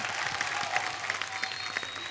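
A studio audience on a comedy chat show applauds loudly to welcome three star guests from the film Bhoot Police, a continuous dense roar of clapping with faint tonal music lines running through it.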